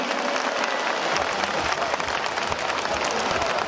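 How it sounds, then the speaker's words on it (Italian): Sustained applause from a stadium crowd at the Golden Gala athletics meeting in 2013, cheering the women's T43 Paralympic 100m runners, a dense, steady roar of clapping that holds at full volume throughout. "Un applauso che non si deve fermare neanche dopo il traguardo"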